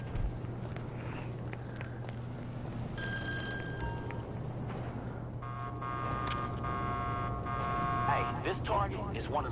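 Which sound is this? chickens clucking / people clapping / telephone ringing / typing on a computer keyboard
telephone ringing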